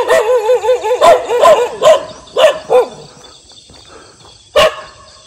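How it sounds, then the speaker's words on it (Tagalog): Several dogs barking near a rice field in the Philippines, loud close barks and yips in quick bursts, then a pause and one more sharp bark, no talking. "Tapos, ang daming aso."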